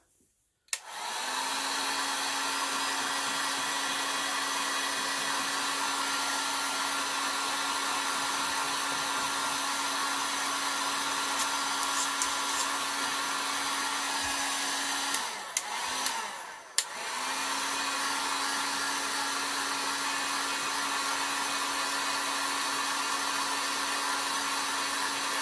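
A hair dryer blows steadily on a chalk transfer, a loud, constant whirring hiss that starts abruptly, briefly drops out and sputters near the middle, then resumes and runs to the end.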